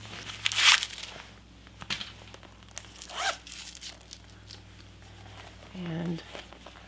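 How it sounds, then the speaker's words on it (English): A few quick zipping and rustling sounds as a Fossil wallet's zipper is opened, with brief crinkles and a short hum, close by and fairly quiet. "And it's got a nice zipper"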